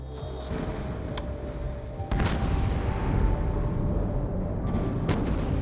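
In Black Ops 2, a launched missile strikes a ship, a sudden heavy boom about two seconds in that rolls into a sustained low rumble after a quieter stretch of game ambience.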